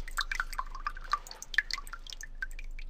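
A small, gently flowing river in a video game gives a faint, steady trickle broken by scattered light drips and plops that come and go irregularly, with no talking.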